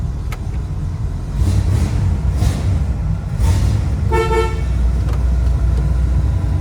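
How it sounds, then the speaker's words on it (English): A 1965 Pontiac GTO with a 389 engine idles with a low rumble, and its horn gives a short toot about four seconds in, close and clear above the engine. "Horn works."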